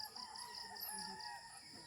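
A chicken calls at a rural provincial home, faint and distant under a steady high ringing hum and outdoor background noise, with no voices.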